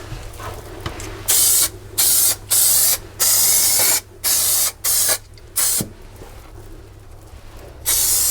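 Short bursts of spray hiss during a 27 ft Nauticus cruiser boat restoration, about eight loud, close blasts of roughly half a second each, separated by brief pauses over a low background hum.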